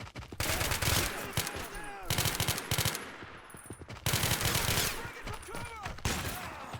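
Heavy .50 cal machine gun mounted on a Stryker in a video game, firing long sustained bursts of rapid booming shots, loud and dense, with brief gaps between volleys and metallic pings over the roar.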